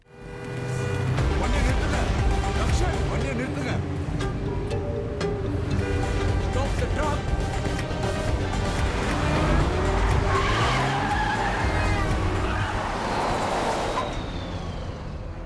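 A car speeding after a truck: a loud, continuous engine roar with screeching tire squeals, most intense toward the end.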